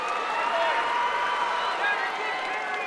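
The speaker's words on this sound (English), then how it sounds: "Southern Columbia crowd, they like it behind us" A Southern Columbia crowd cheers and roars at a high school wrestling state finals match, a steady, loud wash of voices filling the arena with no pause.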